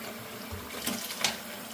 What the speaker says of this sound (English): So, we're going to do some hot water.